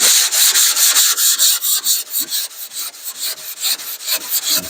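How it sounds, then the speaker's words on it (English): A sanding block is pushed by hand over 2K primer, blocking it down where the primer meets old paint: loud, close, rhythmic rasping strokes, roughly three per second, with no talk. "Block it to where the primer and the old paint come together."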